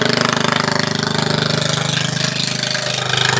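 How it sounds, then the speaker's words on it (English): A Honda 390cc engine drives a GenSafe GS 8 kVA generator, running steadily and loudly nearby with an even, rapid mechanical thrum and no pauses. "And this is a 390cc engine. That's a Honda."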